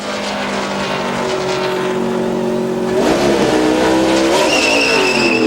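A NASCAR Sprint Cup race car at Michigan pulls away from its pit stop after a two-tire change, its loud engine roaring and revving up through the gears.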